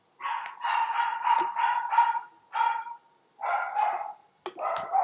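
Dogs barking in repeated, excited bursts, close and loud, with a few short pauses between volleys and no talking.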